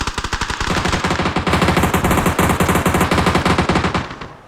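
Rapid automatic gunfire in the battle royale game PUBG, a loud, close, continuous burst of evenly spaced shots that stops abruptly just before the end.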